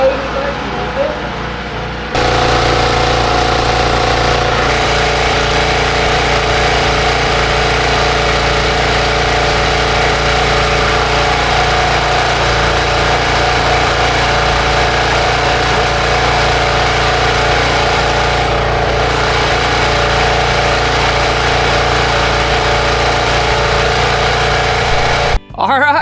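A small 4000-watt Champion portable generator runs at a steady, loud drone that holds unchanged for nearly the whole stretch, then cuts off abruptly at the very end.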